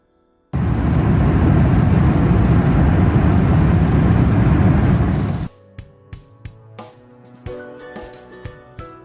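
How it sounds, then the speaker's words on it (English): Steady, loud roar of an airplane cabin in flight, a dense low rumble that cuts off abruptly partway through, followed by quieter clicks and soft talk. "apart from the noise from the plane"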